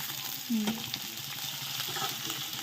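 Mint, coriander and green chilli sauté in hot oil with a close, continuous sizzle and soft stirring scrapes, plus a brief vocal sound near the start.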